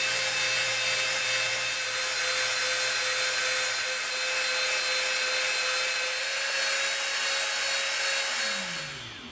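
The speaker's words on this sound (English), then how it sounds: "We're going to Dremel." A Dremel rotary tool shaping EVA foam for a samurai helmet gives a steady, close, high-pitched whine that holds level for about nine seconds and then spins down at the end, with no talking.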